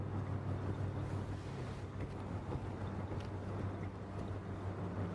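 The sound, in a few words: spinning fan noise in video game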